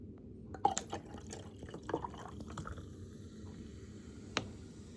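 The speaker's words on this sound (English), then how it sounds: "so I pour it out quickly" Fever Tree ginger beer glugs and splashes quickly out of a bottle into a glass, a faint, close run of liquid drips and gurgles with small clinks, no voices.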